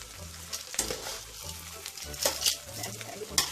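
Vermicelli and spaghetti fry in oil in a single pot for koshari, sizzling close by. A spoon stirs them with repeated scraping strokes and occasional sharp clinks against the pot.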